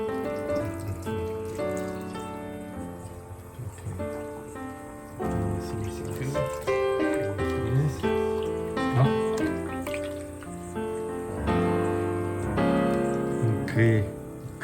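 Running water pours steadily while a Bernese puppy is bathed, with splashing and people talking over it throughout.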